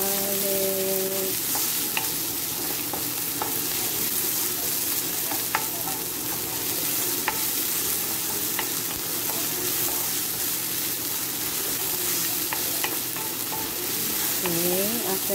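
Onion and garlic sauté in a pan, with a steady close sizzle and frying hiss running throughout and occasional clinks and stirring scrapes of a utensil.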